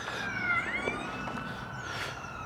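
Police car sirens passing along a street, a wailing tone sweeping up and down, fairly loud and sustained, with no voices over it.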